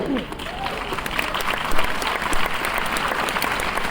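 Dense applause fills a hall at a Mi Lifestyle business program in Nagpur, a steady wash of many hands clapping at moderate loudness throughout.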